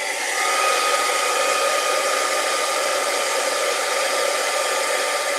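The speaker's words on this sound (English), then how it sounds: "we're just going to heat that embossing powder up until it melts" A handheld heat tool blowing hot air to melt embossing powder on a stamped craft piece, a loud, steady, uninterrupted whooshing roar close to the mic.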